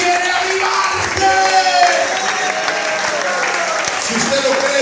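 Church congregation applause, a sustained wash of clapping from a crowd that holds steady for the whole stretch, with a loud voice carrying over it.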